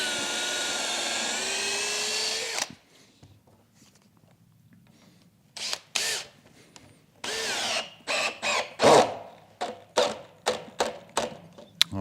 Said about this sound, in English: we're going to drill a hole like this